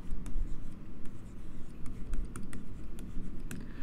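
A pen writing by hand on paper, scratching steadily with short irregular strokes close to the microphone over a low background hum, with no talk.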